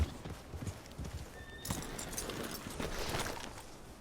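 Horse hooves clip-clopping at a walking pace in the Red Dead Redemption 2 game world, a steady soft rhythm under a busy ambient bed, with a brief whinny-like tone and louder surroundings joining midway.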